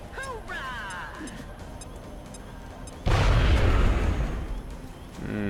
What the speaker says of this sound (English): No one's at the center of the explosion